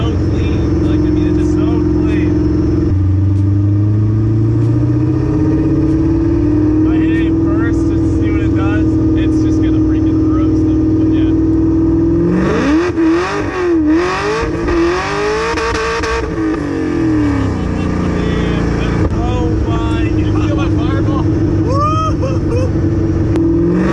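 A car revs hard through a first gear pull, a loud engine roar that climbs in pitch, surges sharply in the middle and keeps droning close throughout, with voices talking over it.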